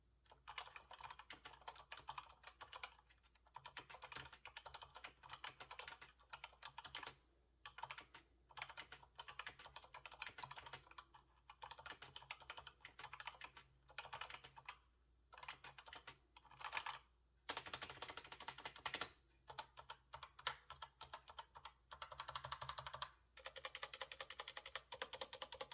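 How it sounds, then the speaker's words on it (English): Rapid typing on a Razer BlackWidow V3 Pro gaming keyboard, with quick clusters of crisp mechanical key clicks broken by short pauses, close and clear with no talking. "we'll do a little sound test to the keys"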